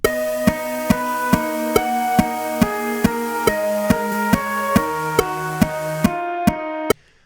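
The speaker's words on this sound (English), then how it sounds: "Pair that with the piano." An airy synth layer paired with piano, steady evenly spaced pulses over sustained tones whose chords step down midway, loud and clear without talk before cutting off abruptly near the end.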